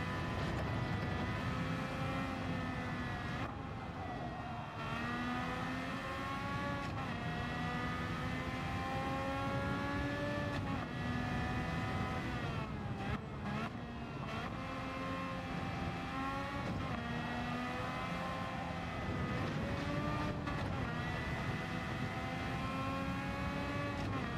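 Honda RA272 race car engine in Gran Turismo 7, practicing at Watkins Glen: a loud, high-pitched engine whine rising and falling through repeated gear changes and revving, continuous for the whole stretch with no talk.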